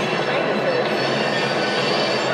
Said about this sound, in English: But this is the 4 train.